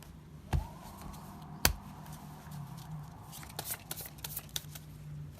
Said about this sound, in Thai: ตีลังกาไพ่แบบไหว้เจ้านะครับ เป็นท่าที่สวยงามมากครับ